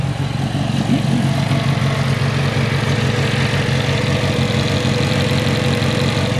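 An engine idles steadily right after cranking on a car with a fuel modification, a loud, close, continuous rumble with an even low throb and no talk.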